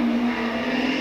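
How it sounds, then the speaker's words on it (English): A loud car roars past close by, its engine drone filling the whole moment as a steady, strong sweep with no talking. "That was a loud car."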